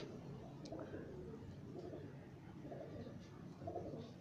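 Guldar pigeons in a breeder pair setup coo softly in low, repeated murmurs, faint and fairly distant, while people talk quietly nearby.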